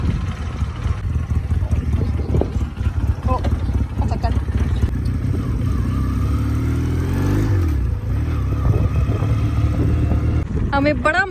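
A car runs during a ride, its engine rumbling and revving under near-constant talk, with a rising then falling engine note partway through and some clatter at the end.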